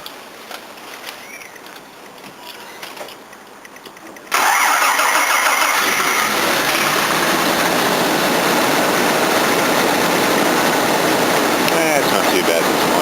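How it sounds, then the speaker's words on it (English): A Jaguar XJ6 Series 3 with a broken drive plate cranks over from cold. Its engine catches about four seconds in, then settles into a loud, steady, slightly rattly idle that runs on alone to the end. "I'm going to do a cold start on this Jaguar XJ6 Series 3. It has a broken drive plate, so it might not sound the best."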